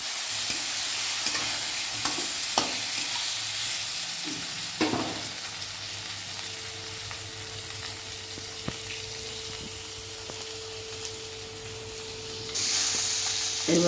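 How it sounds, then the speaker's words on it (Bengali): Slices of eggplant (begun) frying in oil in a pan make a constant close hiss and crackle, with occasional spatters and a faint kitchen hum beneath, no voices. "এবার বেগুনগুলো ভেজে দিচ্ছি।"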